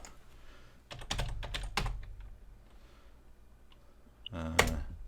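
Typing on a Corsair K95 RGB mechanical gaming keyboard: a short flurry of loud, close clacking keystrokes early on, then a quieter pause and a final burst of clicks.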